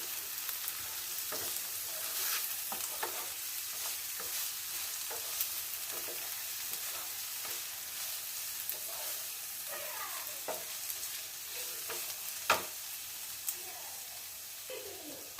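Mushroom roast fries quietly in a pan with a soft continuous sizzle, stirred in scattered light scrapes and taps throughout, fairly faint and without speech.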